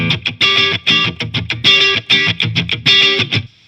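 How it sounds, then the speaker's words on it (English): A Strat electric guitar runs with reverb through a Kemper amp, playing a quick, rhythmic run of clipped, bright notes that ring out briefly at the end, played alone and close. "Let's do a Strat sound with some reverb."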